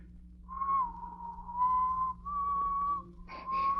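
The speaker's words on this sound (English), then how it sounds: "What's that you're whistling?" A person whistles a slow, sustained melody of the wedding march, clear and fairly close, with long held notes and a couple of short breaks, no talking.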